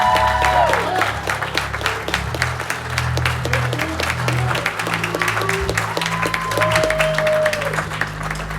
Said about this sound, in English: can we give a big, big, big round of applause for Zachary?